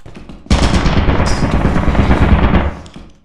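A turret in the video game Lethal Company opens up with a sudden loud, rapid burst of automatic gunfire that lasts about two and a half seconds, then cuts out.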